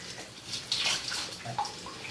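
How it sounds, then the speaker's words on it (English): Hot water running from a tap while painted mugs are hand washed at a sink, a steady splashing rush with brief louder splashes as the mugs pass under the stream. "Hand wash with hot water."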